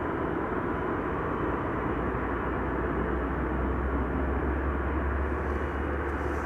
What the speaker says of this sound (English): Got the Airlines Flight 90 coming in right now